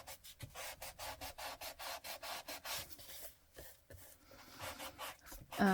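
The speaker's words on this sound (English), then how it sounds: "I'm just going to sand the edge a bit so that it'll take some ink" Sandpaper rubbing the edge of a glossy book image in quick back-and-forth strokes, close and fairly quiet, with a short pause midway before the scratchy strokes resume.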